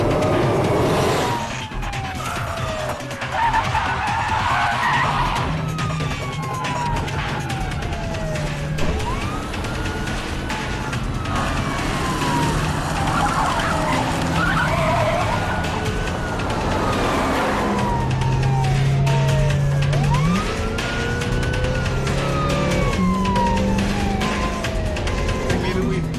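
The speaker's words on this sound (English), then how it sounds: "We're in high-speed pursuit of a white 40 Econo Line van" Wailing police sirens during a high-speed car chase of a white Econoline van, rising and falling sweeps over loud engine roar and road noise, continuous and close throughout.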